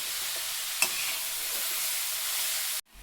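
Grated carrots for halwa fry in a pan with a steady, close hiss that holds evenly for about three seconds, with one brief clink near the start before the sound cuts off abruptly.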